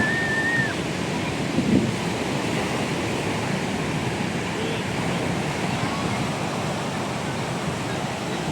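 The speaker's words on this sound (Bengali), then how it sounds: "আর এইখানে ঢেউগুলো মানে খুব বড় বড়" Big sea waves roll in at a beach in Visakhapatnam, a steady, loud broadband wash of surf with no clear breaks, continuing unbroken throughout.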